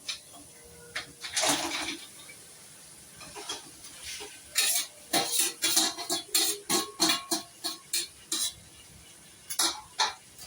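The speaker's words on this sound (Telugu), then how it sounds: "ఇందులో నేను ఇప్పుడు పీతలు వేసేసుకుంటున్నాను" Crabs go into frying masala in a stone pot for Andhra-style crab curry, bursts of sizzling followed by a rapid series of stirring scrapes and clinks against the pot, close and fairly loud.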